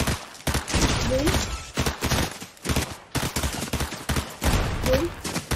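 Bursts of gunfire from a first-person shooter video game, played with keyboard controls, crackle in rapid repeated volleys close and loud.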